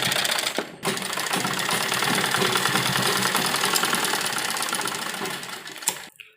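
An electric sewing machine whirs fast and close, stitching a button placket onto a side-dori Naira frock in one long continuous run, then stops abruptly near the end.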